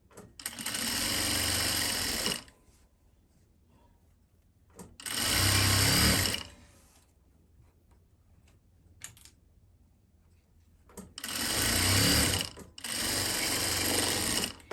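A sewing machine stitches fabric in a tailoring lesson, running in loud, steady whirring bursts of a few seconds each, separated by quiet pauses, with no talking.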